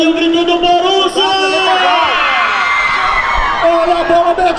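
Borussia football fans chant and cheer at an Arena Tokaia championship final as a steady, loud wall of crowd voices with rising whoops, continuous from start to end.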